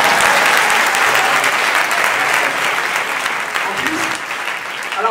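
Sustained applause from a comedy club audience fills the whole stretch, dense and steady, fading slightly toward the end as a voice begins to speak.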